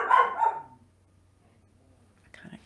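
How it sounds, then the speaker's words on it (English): A pet dog named Coco gives a couple of low woofs and a grumbling growl indoors, close and fairly loud at first, then the room falls quiet apart from a faint low hum and a small noise near the end. "She's doing that woof low grumble thing"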